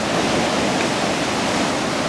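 Ocean surf of small, short-period waves around half a metre high breaks on a beach at early morning, a steady broadband wash of rushing water, loud and continuous with no voices.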